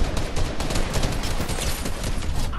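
Assault rifle fire in the Fortnite video game comes as a dense, loud, continuous barrage of rapid shots throughout, with no voices over it.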